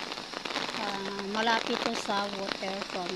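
Heavy rain falls in Yuen Shin Park in Tai Po, Hong Kong, near the waterfront, as a dense, steady hiss under a person speaking close by.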